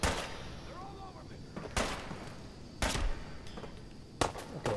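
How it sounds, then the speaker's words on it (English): Enemies fire guns in Fallout 4, sending sharp shots through the scene at irregular intervals. The loud gunfire cracks and booms sound fairly close and have short gaps between them, with game ambience and some faint tonal effects in the background. "they're shooting at us"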